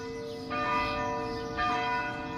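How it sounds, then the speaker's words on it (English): Sunday morning church bells ring out from a historic church, two loud overlapping strikes swelling about a second apart with long sustained metallic overtones hanging in the air between them, no voices present. "Those are the Sunday morning church bells."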